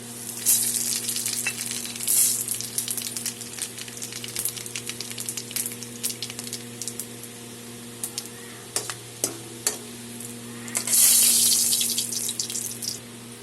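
Whole cumin seeds, two bay leaves and two dried red chillies fry in hot oil for a jackfruit-seed dal, giving a steady close sizzle with scattered pops and louder crackling bursts near the start and end, with no talk.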